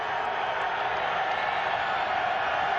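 A steady, dense roar from a small but loud crowd in bad weather at a 2018 college football game, Utah State at Colorado State, holds constant throughout with no distinct voices standing out.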